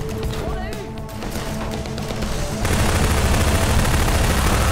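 Gunfire in the video game Half-Life 2: Episode Two, heard as dense, continuous crackling shots that suddenly swell into a louder, harsher barrage partway through, with no voice over it.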